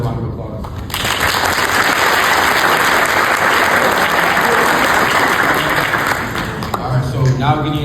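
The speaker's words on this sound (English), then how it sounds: "So I want to give you guys a round of applause." A high school audience at Mount Vernon gives IB students a loud round of applause. Dense clapping starts abruptly after about a second, holds steady, then fades as a voice returns near the end.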